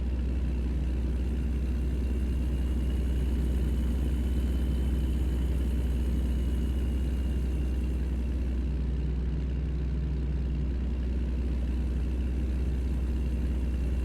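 Kenworth W900 truck engine in American Truck Simulator, a steady low drone loping along at cruising speed on the highway, constant and unbroken with no talking.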